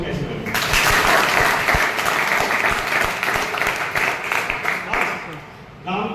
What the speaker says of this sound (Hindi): आपकी तालियों से मुझे बताओ मेरी इंफॉर्मेशन कैसी लगी।